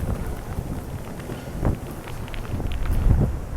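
Gusting typhoon wind buffeting an outdoor microphone during Typhoon Hato in Hong Kong, a rough roaring rush that swells and surges, strongest near the end, with a few thumps mixed in.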